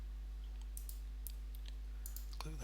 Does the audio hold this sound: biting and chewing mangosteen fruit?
no